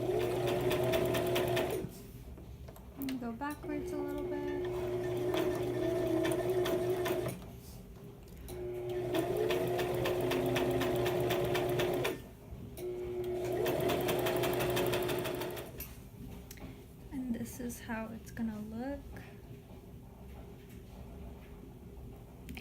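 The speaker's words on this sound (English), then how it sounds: "So once you're done sewing both sides, you're gonna take it so it looks like this" A sewing machine stitches fabric for high-waisted shorts in three long steady runs, its motor humming with a rapid rhythmic needle beat, separated by brief pauses and light handling noises.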